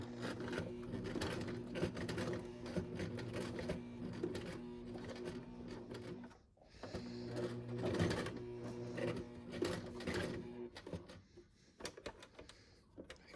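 A sewing machine stitches through thick layers of fabric for a cloth face mask, a steady close mechanical whirring chatter that briefly pauses midway and then resumes, with no speech.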